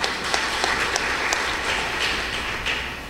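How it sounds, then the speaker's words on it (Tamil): Audience applause at a Tamil pattimandram debate event, a steady wash of many hands clapping throughout at moderate loudness, with no voices standing out. "அவருக்கு ஒரு கைத்தட்டு கொடுங்க"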